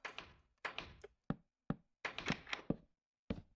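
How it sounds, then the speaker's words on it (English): A wooden door in the Minecraft mod 000.jar opens and closes repeatedly in quick, irregular succession, giving about nine sharp knocking thuds with brief creaks between them, close and clear over silence. "Why are you doing the door opening and closing sound like crazy?"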